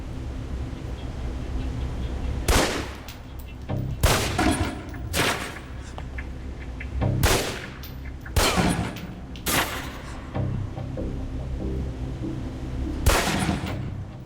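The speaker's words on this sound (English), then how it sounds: "Equip the pistol, then aim down. Range and take some shots at the target." Pistol shots fired one at a time at a target on a practice range in the video game Alpha Protocol, six sharp cracks at irregular intervals over a steady low background hum.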